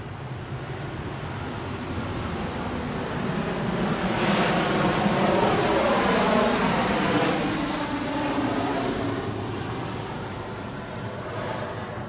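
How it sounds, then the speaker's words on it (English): An airplane passes overhead as a broad, steady roar that swells to its loudest midway and then slowly fades, heard alone without voices. "Here come another airplane, you guys. Let's let this airplane go by."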